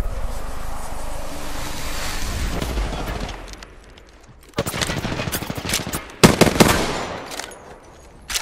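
Rapid automatic gunfire in Apex Legends strikes the player during a 1v1 fight: a sustained volley at first, a brief lull, then two sharp, loud bursts of close fire.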